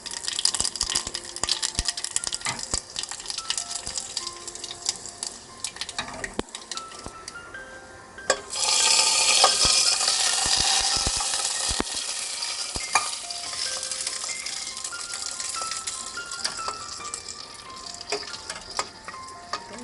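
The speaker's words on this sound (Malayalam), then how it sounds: "കടുകൊന്ന് പൊട്ടട്ടെ. 2 ഉണക്കമുളക് ഇട്ട് കൊടുക്കാം." Mustard seeds and dry chillies crackling in hot oil, a busy stream of sharp pops and spatters over a steady sizzle, surging louder midway and continuing without talk.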